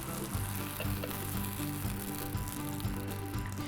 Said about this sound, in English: So now I'm just gonna give these peaches a quick flip and cook the other side